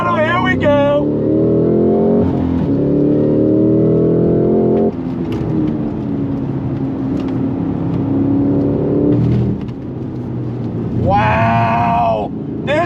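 A 2025 Cadillac CT5-V Blackwing Precision sedan with a manual transmission accelerates hard under throttle, its engine loud and close, rising through the revs with shifts in between and a high screech at the start and end.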